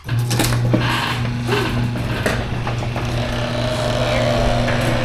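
Steady motor hum with a constant drone, accompanied by rattling and clattering mechanical noises as a Chamberlain garage door opener runs.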